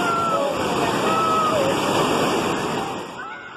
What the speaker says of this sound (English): some rafters taking a big fall over a waterfall